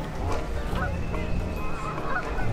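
A duck gives a run of honking, nasal calls that repeat over a steady low background rumble.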